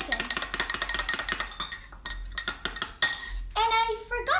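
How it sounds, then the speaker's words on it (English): A spoon clinks repeatedly against a glass while stirring ginger and turmeric tea with lemon, a quick run of bright close taps, pausing and resuming, loud and near with no talk. "And now we're going to stir this in."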